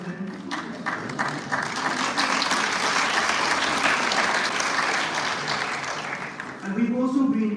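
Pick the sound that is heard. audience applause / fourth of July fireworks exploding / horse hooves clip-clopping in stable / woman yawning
audience applause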